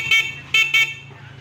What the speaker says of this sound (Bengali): হর্নটা বাজে